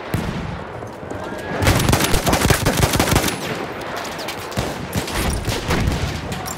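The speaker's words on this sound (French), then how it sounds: "Mitrailleuse ennemie, par là." Rapid bursts of enemy machine gun fire in the World War I shooter Battlefield 1, loud and sustained with dense rattling volleys that rise and fall across the span.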